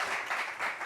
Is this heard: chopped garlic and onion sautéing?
no